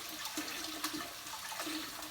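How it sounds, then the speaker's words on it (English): Chicken broth poured into a pot of water while making gumbo gives a faint, steady liquid gurgle and splash lasting about two seconds, low and close, with no talking. "I poured the chicken broth in to the water."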